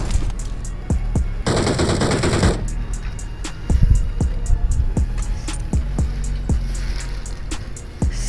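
Rapid bursts of automatic gunfire crackle in a PUBG match on the Livik map, a loud volley up front followed by a steady string of evenly spaced single shots, with no talking.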